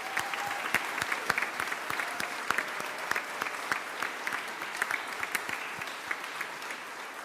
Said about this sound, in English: Please round of applause for them as well.